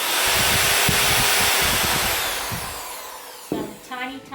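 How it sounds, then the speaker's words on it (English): A power drill with a 1/16 inch bit pre-drills small holes in a piece of driftwood, a loud close whine that winds down after a few seconds, followed by brief clunks and a short burst of speech. "And put that into the drill already, and we're just going to pre-drill"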